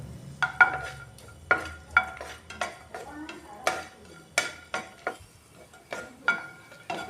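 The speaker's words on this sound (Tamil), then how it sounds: "முந்திரி பருப்பு ஓரளவு வறுபடவும் கொஞ்சமாக உலர் திராட்சை சேர்க்குறேன்" Cashews and raisins fry in a pan while a metal spoon stirs them, giving a quiet sizzle under a series of distinct scraping clinks and taps spaced roughly every half second to a second.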